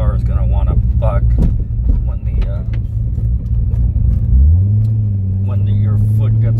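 A cammed Corvette Z06 engine coasts off throttle at about 1500 RPM, a loud close steady low rumble that settles into a smoother drone partway through, with someone talking over it.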